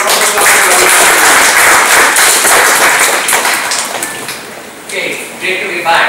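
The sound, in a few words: audience applause for speaker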